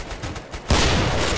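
Gunfire erupts in Killing Floor, a sudden loud burst about halfway through that carries on as a dense volley of shots after quieter background game noise.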